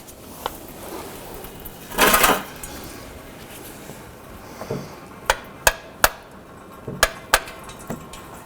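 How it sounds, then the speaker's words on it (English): A hammer tapping the ear of a 2007–2011 Honda Civic water pump to break its seal: a brief scraping rattle, then a series of sharp metallic knocks at irregular intervals, close and clear. "just tap this little ear of the water pump with a hammer just to break that seal"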